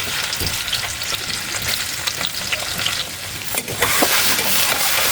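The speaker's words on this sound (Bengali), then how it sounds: "ডিমগুলো দিয়ে দিচ্ছি, ডিমগুলো ভেজে নিব" Eggs sizzle and crackle in a hot pan with oil, a loud continuous frying hiss with occasional stirring scrapes and no voices.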